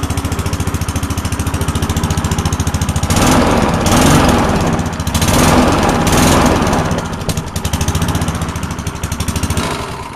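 A gas lawn mower engine chugs loudly and rapidly, its rough putter swelling louder and easing back a few times as it runs.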